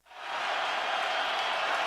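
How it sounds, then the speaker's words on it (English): An NFL stadium crowd at a Chicago Bears game rises into a dense, sustained roar of cheering that swells in quickly and holds loud and steady, carried through a broadcast. "Crowd on its feet."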